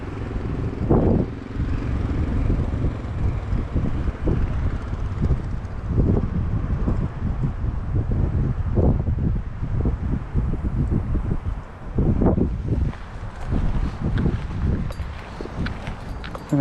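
Strong, gusty wind whips across an open pond during fly fishing, a constant loud buffeting rumble on the microphone with repeated thumping surges.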